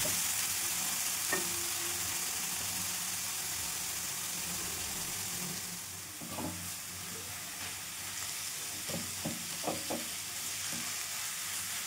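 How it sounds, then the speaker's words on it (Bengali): Grated carrots fry in ghee in a pan for carrot halwa, giving a steady low sizzle with scattered scraping stir strokes near the end; no one speaks. "গ্রেট করা গাজরগুলো ভালোভাবে ঘিতে ফ্রাই করে"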